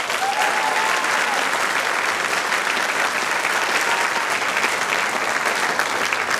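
An audience at a jazz event claps loudly and steadily for the sponsors, dense continuous applause filling the room, with a voice faintly speaking beneath it.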